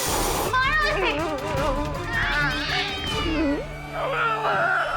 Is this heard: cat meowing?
yes